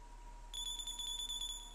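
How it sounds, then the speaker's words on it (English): An electronic alarm from the Chrono Trigger video game, set off by birds, starts as a steady high-pitched beeping tone with a faint pulsing rhythm over a low background hum, quiet and short, with no talking. "so those birds serve as alarms"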